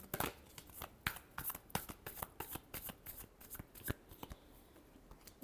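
A deck of tarot cards is shuffled up close, with quick papery riffles and flicks coming in irregular bursts over a quiet background.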